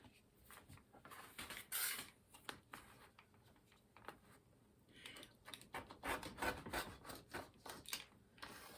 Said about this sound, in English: I'm just going to cut the selvage off